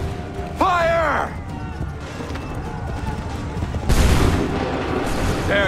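Assassin's Creed III muskets fire in a loud crackling volley amid battle noise. A shouted command comes just before, and a second burst of fire follows a few seconds later.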